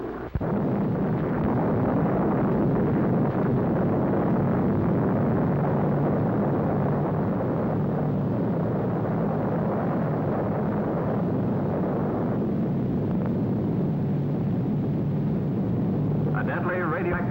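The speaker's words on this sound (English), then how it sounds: "bomb away!" A deep, sustained roar from the atomic bomb test at Bikini Atoll, loud and continuous throughout with no breaks, a rumbling blast that never fades into quiet.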